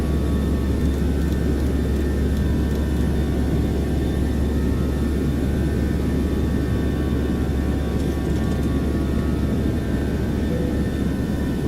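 A Boeing 737-600 jet in a flight simulator game climbs with a steady, loud, unbroken engine roar and whine that holds level for the whole stretch, with no voices over it.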